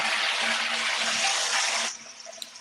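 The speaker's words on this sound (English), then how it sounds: "That's the sound of the toilet flushing." A toilet flushes nearby with a steady rushing wash of water that cuts off abruptly partway through, leaving a faint trickle and refill.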